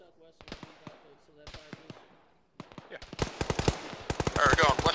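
Gunfire shattering windows in a military shooter game: someone talks over quieter shots, then a loud, rapid automatic burst of closely spaced cracks runs continuously to the end.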